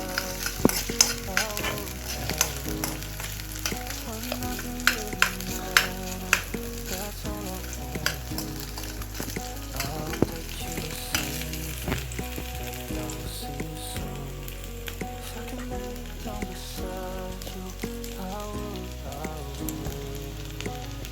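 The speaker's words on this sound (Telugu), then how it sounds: "ఇప్పుడు ఆయిల్ వేడైపోయింది. మేము ఇప్పుడు గార్లిక్ వేసుకుంటున్నాం. తర్వాత గ్రీన్ చిల్లీ, తర్వాత జింజర్ వేసుకున్నాం." Garlic, green chilli and ginger frying in hot oil, a constant crackling sizzle broken by frequent sharp spoon-on-pan clatters and stirring scrapes, close and fairly loud throughout.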